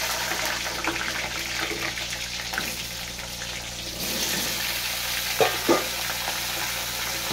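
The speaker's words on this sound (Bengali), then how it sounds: "হালকা হালকা ভাজাতে আমি আলুগুলো দিয়ে দেবো।" Cut potatoes fry lightly in hot oil with a steady, close sizzle, punctuated by a couple of brief stirring knocks near the end, with no talking.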